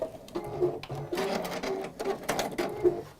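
A sewing machine stitching back over earlier stitches for backtacking, whirring in short uneven bursts close by, with a faint voice underneath.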